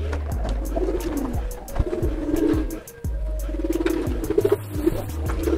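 Pigeons for sale at a bird seller's kiosk in a village give repeated low, throaty coos in a rhythmic series, with wing flutters and light scuffling close by.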